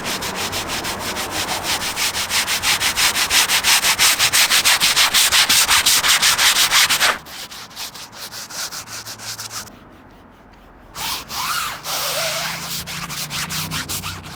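A drill brush scrubs the mouldy seams of a convertible's fabric roof, giving a loud, steady rubbing whir for about seven seconds, then quieter intermittent scrubbing with a brief pause before resuming.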